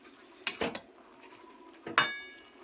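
A lid set onto a cooking pot, two sharp metallic clanks about one and a half seconds apart, the second ringing briefly, close and clear.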